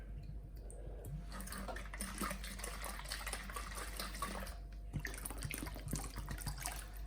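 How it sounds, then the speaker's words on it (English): Sanitizer liquid poured out of beer bottles and swirled to coat the insides during homebrew bottling, giving a steady, continuous gurgling and splashing of liquid close up under a constant low hum. "pour it out, and we're just making sure we coat the insides with sanitizer"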